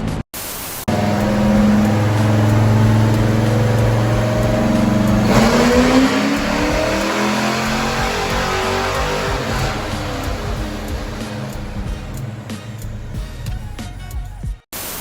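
A Chevelle engine on a dyno revs hard and loud, holding a steady high drone before climbing sharply in pitch through a long pull, then winding down and cutting off abruptly near the end.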